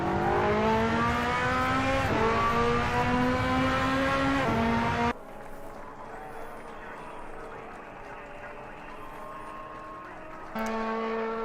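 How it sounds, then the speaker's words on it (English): A purple-pink P&R Ferrari GT2 race car in a racing video game screams past at high revs, the engine pitch stepping up through gear changes. The roar cuts off to a quieter drone, then returns at the end. "Lemmy comes over the line in the purple-pink P&R Ferrari"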